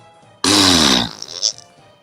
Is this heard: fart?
yes